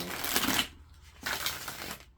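Tarot cards shuffled by hand, two short rustling bursts with a pause between them, close and fairly loud.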